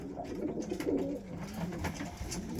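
Breeding pigeons or doves cooing indoors under added artificial light, a steady run of soft, low coos overlapping one another at close range with no talk.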